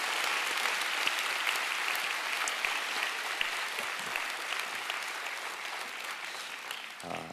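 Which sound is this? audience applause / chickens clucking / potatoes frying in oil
audience applause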